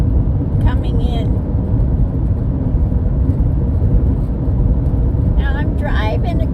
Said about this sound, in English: Now I'm driving across out here.